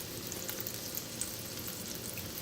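Salmon searing in a skillet gives a steady, even sizzle, quiet and close, with no voices and no breaks for the whole stretch.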